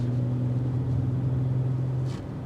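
A 2025 BMW X6 xDrive40i straight-six engine accelerating, a steady droning hum that holds loud and close, then eases off near the end.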